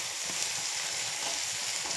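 Onion and drumstick pieces fry in a pan for a boondi drumstick curry, producing a loud, dense, continuous sizzle heard close up without talk.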